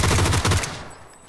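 PUBG gunfire: a loud, rapid automatic burst lasting about half a second, then a fading tail and quiet.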